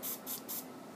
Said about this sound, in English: So at this point, we'll put a little spray on there.